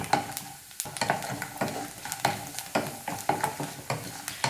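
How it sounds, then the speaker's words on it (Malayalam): Grated coconut being roasted and stirred in a pan for Kerala-style aval vilayichathu, with repeated scraping strokes of the spoon and a soft sizzle in a steady, close rhythm and no voices. "നാളികേരം ഞാൻ നന്നായിട്ട് തന്നെ വറുത്തെടുത്തിട്ടുണ്ട്."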